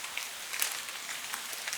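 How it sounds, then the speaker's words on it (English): Rain in the forest of Kingdom Come Deliverance 2 falls on branches and leaves as a soft, continuous hiss of fine patters and scattered drip taps, faint and steady with no voices. "Over this sound, other rain sound plays over. So you hear like the drops hitting branches and leaves."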